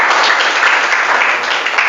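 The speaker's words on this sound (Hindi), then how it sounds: "ताली बजाओ" An audience claps loudly and densely for a couple of seconds, a steady wash of many hands at a spoken English class or motivational session.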